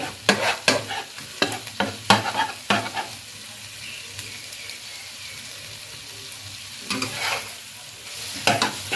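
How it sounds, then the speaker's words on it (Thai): Egg is stir-fried in a pan with a sharp, rhythmic run of spatula scrapes and clacks over a constant sizzle, pausing for a few seconds in the middle and then resuming, close and without speech. "เราจะผัดเป็นแบบให้ไข่เป็นชิ้นๆ"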